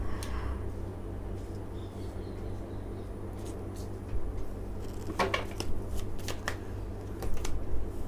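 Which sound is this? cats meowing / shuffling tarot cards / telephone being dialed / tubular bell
shuffling tarot cards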